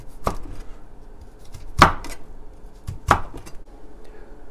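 A knife cuts wood ear mushroom into matchsticks on a board, with a few sharp separate chops spaced apart in quiet.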